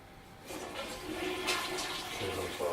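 A toilet flushes nearby with a steady rushing gush of water that builds and holds, then shifts into a refilling hum near the end, with no speech over it.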